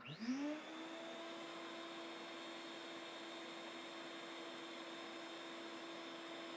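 A small shop dust collector spins up and then blows air in a steady, loud whoosh with a constant motor whine, running alone without pauses after a brief rising start.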